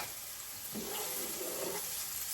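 Chopped onions hit a hot pan with garlic and sizzle, with a fresh surge of crackling frying as they go in and then a constant hiss that carries on quietly, with no talking over it.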